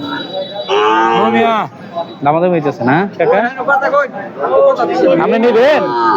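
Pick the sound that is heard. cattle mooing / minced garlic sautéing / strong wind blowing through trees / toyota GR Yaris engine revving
cattle mooing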